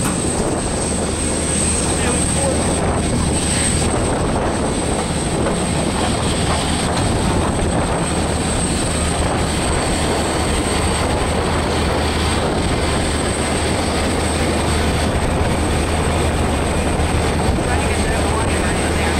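A small propeller plane's engine drones steadily and loudly throughout in Hawaii, mixed with heavy wind rumble and faint talking underneath.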